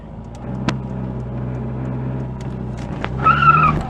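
A Rover Mini Cooper being driven on a test drive after hydraulic clutch bleeding, its engine droning steadily from inside the car, with a couple of sharp clicks and a rising whine near the end.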